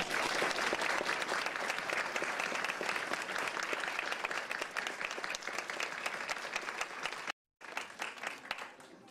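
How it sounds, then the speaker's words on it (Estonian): Sustained applause from an audience at a kindergarten graduation ceremony, dense steady clapping that fades slightly, cuts out briefly near the end and resumes. "suur aplaus tänastele lõpetajatele"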